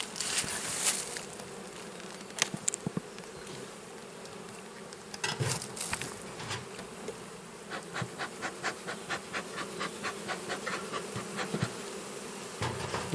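Bees buzz around a beehive during a spring inspection near flowering rapeseed fields, a constant close drone with individual insects flying past and a stretch of rapid rhythmic tapping or fluttering toward the end.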